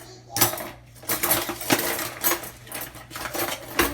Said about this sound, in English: All these small spoons in here.